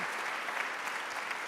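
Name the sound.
audience applause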